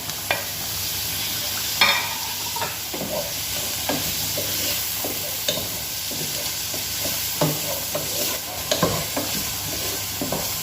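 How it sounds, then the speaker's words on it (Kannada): Tomatoes fry in a pan for restaurant-style paneer masala, with a constant sizzle and hiss and repeated scraping and clacking as a spoon stirs them, close by with no talking. "ಚೆನ್ನಾಗಿ ಫ್ರೈ ಮಾಡ್ಕೋಬೇಕು"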